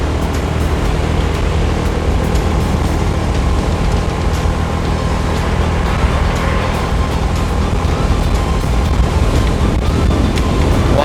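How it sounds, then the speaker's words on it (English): Steady, loud wind roar buffets the microphone throughout, mixed with a constant low rumble of a car driving around 50 in Thailand, with no pauses. "Well, it's very windy."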